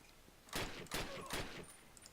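Three sharp gunshots ring out in quick succession in the video game Call of Duty, loud and close, separated by short gaps with a faint background hum.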